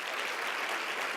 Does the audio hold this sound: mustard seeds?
no